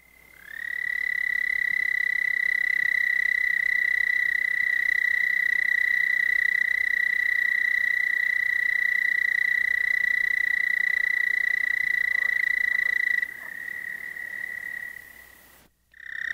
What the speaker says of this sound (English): This is a call of the American toad, Bufo americanus, at Monette, Missouri.